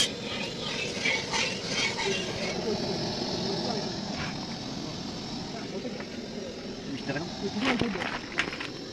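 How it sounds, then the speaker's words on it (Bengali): Constant hissing sizzle of potatoes frying in hot oil in a kadai at an outdoor picnic, with a few clattering bursts and people talking over it. "আলুটি একটু লাল লাল করে ভেজে নেব"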